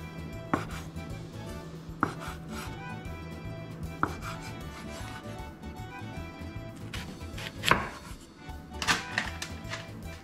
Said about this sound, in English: And slice it into pieces like needles.